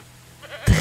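A goat bleats once in the medieval farm game Medieval Dynasty, a short, loud, nasal cry at the very end after near silence.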